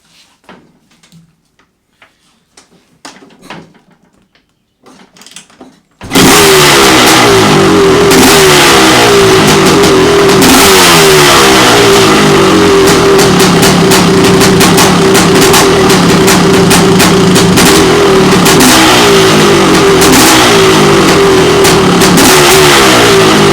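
A quiet rustle gives way to a loud 1998 Honda CR500 motorcycle engine roaring to life and revving steadily up close, a throaty mechanical drone with rhythmic pulsing throughout.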